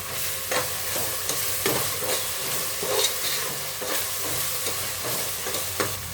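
Ginger-garlic paste and green chillies fry in a pan, giving a steady close sizzle and hiss broken by the regular scrape and clack of a spoon stirring, with no talk.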